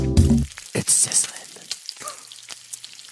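Hot sizzling from a jingle sting, bright crackling frying bursts right after a short low musical hit, then thinning to scattered faint pops.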